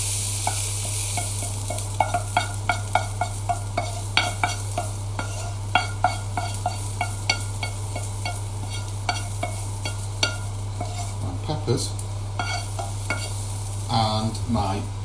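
Peppers frying and being stirred in a pan at a home BBQ cookalong, with a steady sizzle under repeated sharp scrapes and clinks of a utensil against the pan, close and without talk.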